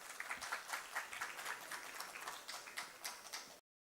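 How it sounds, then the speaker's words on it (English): An audience at an annual convention gives a welcoming round of applause as a guest takes the dais, a steady, fairly distant wash of clapping that cuts off abruptly. "can we please welcome him on the dais with a huge round of applause"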